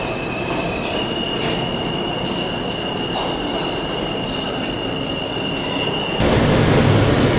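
Interior of a Japanese train while riding: a steady loud rumble of rolling wheels with a high sustained wheel squeal and shifting screeching tones, growing louder near the end.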